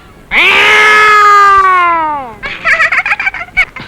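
A human voice imitates a cat with one long, loud, drawn-out meow, followed by a quick run of choppy vocal sounds.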